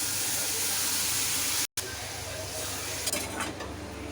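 Spice paste sizzling and frying in a hot pan while being stirred, with a continuous hiss, a short break, and scraping stir strokes toward the end.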